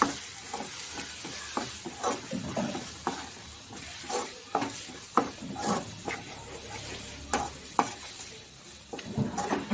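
Chili and turmeric powder are stirred into a tomato masala in a pan for chicken gravy, with repeated scraping spoon strokes over a steady sizzle.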